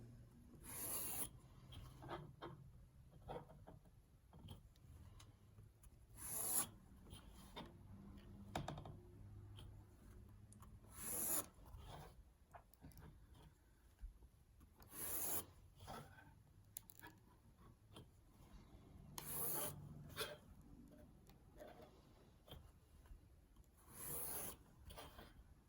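A pencil scratches grid lines up and down across paper in repeated short strokes with brief pauses between them, close and quiet, with no talk.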